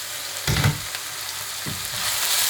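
Mushrooms cooking in a covered pan give off a steady soft sizzle, broken by a couple of louder clattering knocks as the lid or pan is handled.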